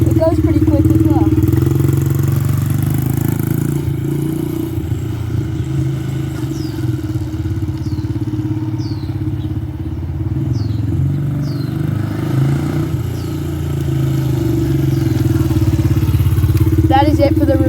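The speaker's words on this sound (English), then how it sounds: "the review of the Honda XR70 pit bike" A Honda XR70 pit bike engine runs with a steady mid-pitched hum and rattle, heard close throughout beneath someone talking.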